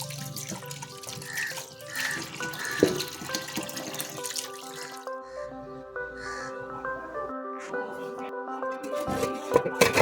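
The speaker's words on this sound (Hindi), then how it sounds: "सारा छील के फिर उसको अच्छे से पानी से वॉश किया" Tap water running over freshly peeled carrots at a kitchen sink: a steady close splashing stream with clinks and drips, softer in the middle, and people talking faintly nearby.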